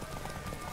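Rapid hoof clip-clop of a horse galloping in The Witcher 3 video game, a steady, fairly quiet drumming rhythm over background game ambience.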